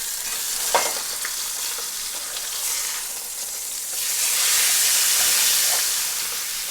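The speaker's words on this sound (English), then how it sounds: "I think we're ready to flip the steak here." A steak for beef noodle soup sizzles loudly in a hot pan as it is turned, giving a hissing crackle with a few sharp spits and a louder surge of sizzle toward the end.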